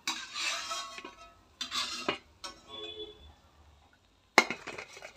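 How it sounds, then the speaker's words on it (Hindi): Fried gulgule made from wheat flour are lifted out with a metal utensil onto a plate, giving scattered clinks and scrapes in short bursts, with a sharp clink near the end and faint sizzle. "अब हम एक प्लेट में इन्हें निकालेंगे।"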